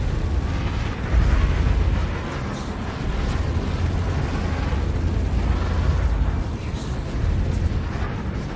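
Ship strafing attack in the space game Star Citizen, rumbling blasts and bursts of fire rolling through continuously, with heavier booms around the first and sixth seconds.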